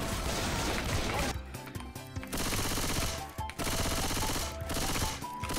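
Uzi gunfire in Left 4 Dead 2, long rapid automatic bursts broken by short gaps, loud and close, with brief crashes between volleys.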